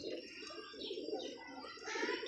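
A pigeon from a breeding pair coos softly in a steady, low murmur, with faint chirps and higher bird calls mixed in nearby.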